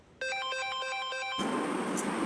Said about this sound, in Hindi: ये मम्मी का फोन कहाँ बज रहा है?